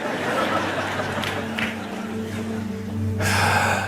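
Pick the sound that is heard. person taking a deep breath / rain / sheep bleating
person taking a deep breath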